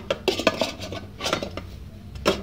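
A metal lid clatters onto a pot holding chicken laid over sliced onions, set for steaming: several sharp close clinks and rattles in quick succession, a pause, then a final clank, with no talking.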